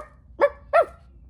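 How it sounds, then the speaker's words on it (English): Two short, sharp yappy barks in quick succession from a small scrappy chihuahua, close and distinct against a quiet background. "so he tried again with his scrappy chihuahua bark."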